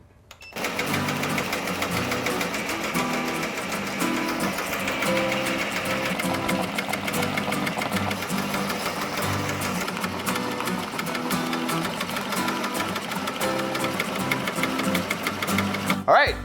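An embroidery machine stitches a 3D puff border on a leather patch with a loud, continuous rapid needle chatter close by, running nearly the whole time while a person talks over it.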